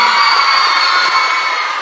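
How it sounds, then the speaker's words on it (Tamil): Audience cheering at a talk, a continuous bright roar of voices with steady tonal whooping, loud and unbroken with no clear claps standing out. "உங்கள் ஆரவாரமும் கைத்தட்டிலும் பார்க்கும்போது"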